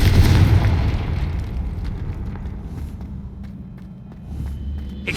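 A Confringo blasting spell in Hogwarts Legacy erupts into a loud, deep explosive boom that rolls away into a long fading rumble, with a second low swell near the end.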